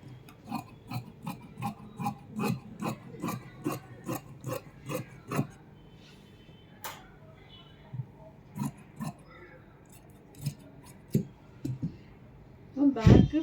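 Scissors cut chudidhar fabric for a collared top with a close run of quick, evenly spaced snips. A pause follows, and then a few scattered cuts and some handling noise come at the end.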